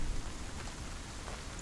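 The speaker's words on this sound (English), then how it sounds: "It's raining right now as we speak." Heavy rain falling steadily in Bangalore, a dense continuous hiss with patter on surfaces, moderately loud and unbroken, with no voices.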